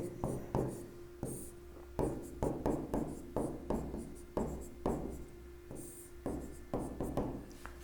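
Chalk writing on a board during a statistics lesson, a close series of sharp taps and short scraping strokes in an uneven rhythm, with a faint steady hum underneath.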